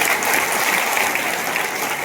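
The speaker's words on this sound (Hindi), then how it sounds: "एक बार जोरदार तालियां बजाइए।" An audience at a network marketing seminar bursts into sustained applause, a dense continuous wash of clapping from a large crowd lasting the whole short stretch, with no talk over it.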